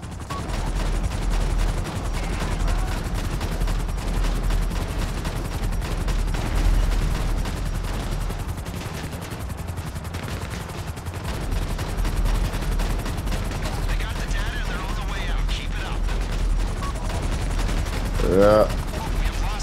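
Sustained gunfire during a raid mission in GTA 5 Online, dense bursts of shots running throughout with a steady low rumble, with game radio chatter and a man urging a teammate on over the action.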